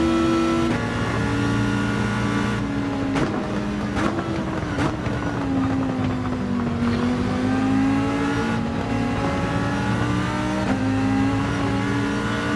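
Old Honda NSX GT500 race car engine at Monza in a racing video game, a loud sustained roar that climbs in pitch through the gears with a few sharp shifts and pops, no talk.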